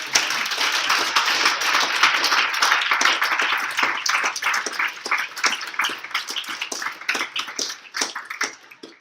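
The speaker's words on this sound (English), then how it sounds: "I would just like to give Adam another round of applause" Audience applause for Adam at a Senate term gathering, a dense, steady burst of many hands clapping close and loud, with sharp individual claps standing out throughout and no talk over it.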